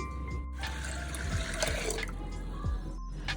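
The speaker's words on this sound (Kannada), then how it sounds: "ಎರಡು ಕಪ್ಪಷ್ಟು ನೀರನ್ನ ಹಾಕ್ತೀನಿ" Water pours into a pot of dal with salt and turmeric, a continuous close splashing trickle with a few gurgling drops, steady and moderately quiet.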